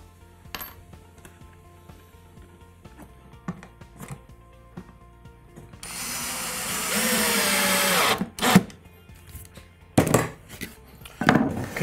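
A power drill drives a screw into a pallet-wood wall shelf, a short loud whirring burst in the middle, with scattered knocks and taps of tools and wood before and after, close by.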